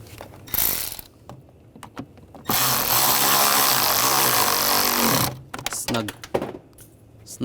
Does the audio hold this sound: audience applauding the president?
no